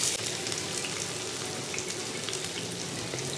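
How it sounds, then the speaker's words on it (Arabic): Onions frying in hot oil for a Syrian eggplant dish, a steady close sizzle and hiss that holds without pause, with no talk over it. "هلا احمي الزيت، حننزل البصلات"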